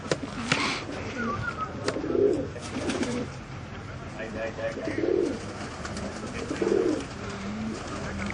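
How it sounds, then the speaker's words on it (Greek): Pigeons at a pigeon club's annual celebration in Veria, Greece, coo in low repeated bursts spread through the clip, with background voices murmuring throughout. "Αυτά είναι τα πουλιά του."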